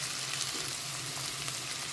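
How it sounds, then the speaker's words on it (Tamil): Beetroot and potato pieces sautéing in oil in a pan with curry powder, a steady close sizzle and crackle holding evenly through the short stretch. "இந்த எண்ணெயிலே இதை நல்லா அப்படியே வதக்குங்க"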